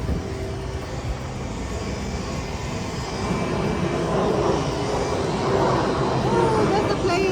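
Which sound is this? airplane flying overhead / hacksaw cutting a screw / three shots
airplane flying overhead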